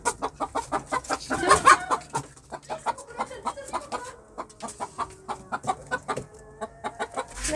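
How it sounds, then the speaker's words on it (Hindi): Chicken clucking indoors inside a house, a steady run of short, clear clucks in quick rhythm with one louder burst of squawking near the start, close and distinct with no talking. "हमारे घर मुर्गी आ गई है"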